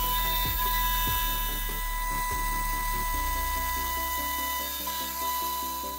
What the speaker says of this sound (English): Next up is a CNC milling machine for working with aluminium.